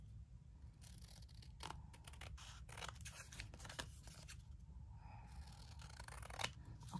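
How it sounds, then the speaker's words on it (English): Scissors trim the edges of a paper tag in a string of close, crisp snips, some quick and some spaced, over a quiet room hiss. "I could also just trim this one up on the edges."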